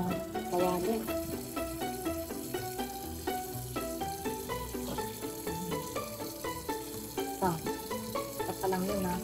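Lobster heads fry in a pan with a dense, continuous sizzle and crackle, close and steady, over a faint background of music-like tones.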